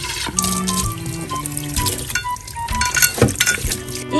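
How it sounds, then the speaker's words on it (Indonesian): Sea bass is washed in tamarind water in a kitchen, with splashing, running water and clinking of a bowl or dish, up close and fairly loud, with no talking. "Cuci-cuci dia dengan air asam."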